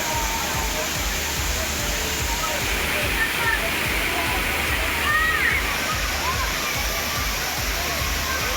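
A steady rush of falling water at Thirparappu waterfall in Kanyakumari, India, a dense continuous roar with some splashing, while a voice talks over it.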